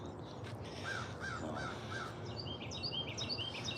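Crows caw repeatedly at a moderate distance over a steady outdoor hiss, with tufted titmice chirping faintly in the background.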